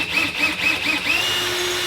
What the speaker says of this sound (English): There's one hole I forgot to drill somehow.